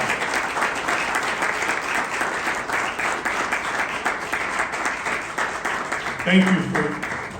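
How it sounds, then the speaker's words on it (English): A crowd applauds at an event introducing the Brooklyn DA and an NYPD deputy chief, sustained dense clapping throughout with a voice briefly rising over it near the end. "you get a round of applause from everyone here"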